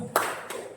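Group of people clapping hands in a classroom activity, two short sharp bursts of applause, close and fairly quiet, with no talk over them.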